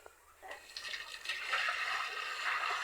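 Water is poured into a small pool set up for crossbreed gamefowl, making a soft, continuous splashing and gurgling that builds slightly. It is faint and heard alone.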